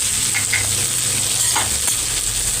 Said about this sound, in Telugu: ఇప్పుడు బాగా ఫ్రై అయిపోయింది బంగాళదుంప వంకాయ